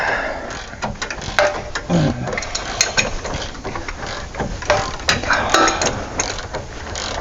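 A ratchet wrench clicks rapidly and continuously while turning a long, very tight bolt on a Dodge, a dense close-up run of metallic pawl clicks over several seconds.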